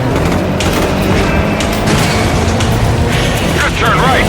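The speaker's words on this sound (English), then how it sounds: "Pass close to the explosion." Explosions in the driving stunt game Stuntman Ignition rumble loud and continuous, a dense roar of blasts and debris filling the scene without pause.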